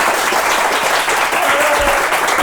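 Steady, dense applause from a theatre audience after a hypnosis comedy show, loud and continuous throughout with no talking over it.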